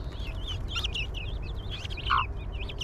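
Hens and newly hatched chicks fill the air with steady high peeping and chirping from nearby, with one louder cheep standing out near the end.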